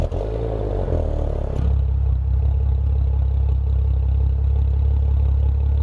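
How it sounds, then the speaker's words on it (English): A 2018 Maserati Ghibli GranLusso S fires up with a loud cranking clatter, then settles into a deep, steady idle rumble close by that continues to the end. "let's get this started up and let's get this on the road so you guys can hear what it sounds like"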